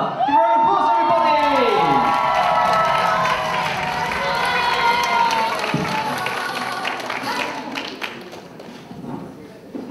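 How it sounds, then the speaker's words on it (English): The studio audience of the TV dating show Blind Date breaks into loud applause and cheering, with whoops and claps that ease slightly over ten seconds. Voices and a brief gliding sound effect rise over the crowd at the start. "Give her a applause, everybody!"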